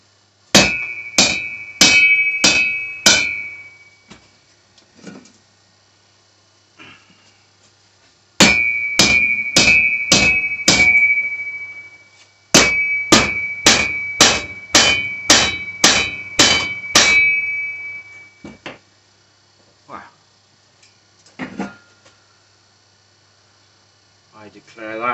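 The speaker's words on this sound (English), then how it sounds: "One large rubber mallet." A large rubber mallet striking a welded right-angle steel tube joint for a car rotisserie, delivered in three loud rapid bursts of ringing metallic blows with quiet pauses between, plus a few scattered lighter taps.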